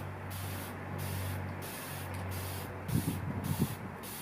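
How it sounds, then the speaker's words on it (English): Spray bottle spritzes basil seeds in a Tupperware container, seven quick evenly spaced hissing squirts, close and crisp, followed by a few soft handling knocks. "Just going to spritz them like this."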